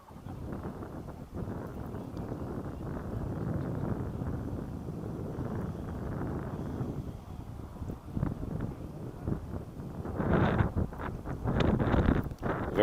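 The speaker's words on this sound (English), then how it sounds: "Very windy day out here today." Gusty wind buffets the microphone at an outdoor high school boys' soccer field, a constant low roar that swells louder toward the end, with no clear talk over it.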